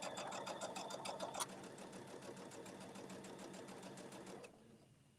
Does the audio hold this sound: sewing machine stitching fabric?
yes